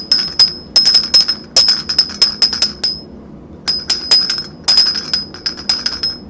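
A homemade metal bell rings in clear, repeated sharp strikes, each bright tone ringing briefly before the next, in two bursts separated by a short pause, close and loud.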